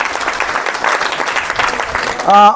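A crowd at a felicitation ceremony at Sri Guru Mahanteshwar Gudda during a pilgrimage walk claps in steady, dense applause, with a short tonal voice-like sound cutting in near the end.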